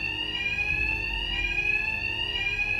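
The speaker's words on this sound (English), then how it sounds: "My attacks will be covered by the noise of the alarm." A bank alarm in the Batman: Arkham Knight video game rings as a continuous high electronic tone, loud and steady throughout with no voices over it.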